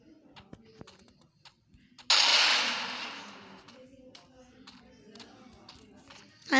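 A single sharp gunshot fired in the Free Fire battle-royale video game, a loud broadband crack with a decaying tail, followed by quieter game sounds and faint clicks.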